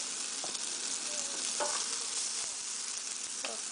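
Papas con longaniza sizzle steadily in a hot pan, a constant bright frying hiss with occasional soft stirring scrapes and clicks, close and moderately quiet.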